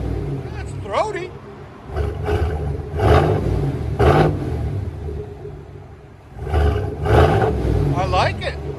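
A 2021 Chevy Silverado Z71 pickup fitted with a Borla Touring cat-back dual exhaust revs in repeated bursts, deep throaty rumbles rising and falling close by, with people talking over it.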